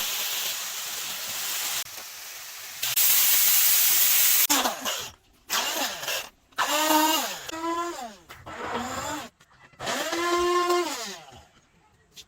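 Tomatoes hit a hot pan of turkey curry with a loud, steady sizzling hiss for several seconds, then a voice talks over the fading, broken frying.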